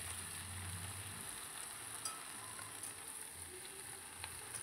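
Bottle gourd leaves being sautéed in a pan for a moong dal dish give off a steady, soft sizzle with faint stirring scrapes, heard close and alone.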